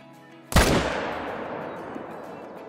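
A single loud M1 rifle shot fired at a red deer in the Call of the Wild hunting game, sharp crack followed by a long rolling echo that fades slowly.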